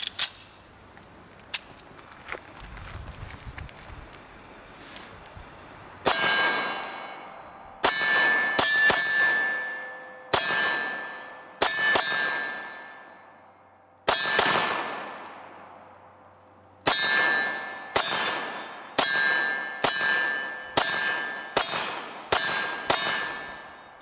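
A Sarsilmaz Mega 2000 9mm pistol fires about fifteen loud, sharp shots outdoors. Each crack rings off a metal steel target with a clang and a long decay, spaced roughly a second or two apart, with no talking.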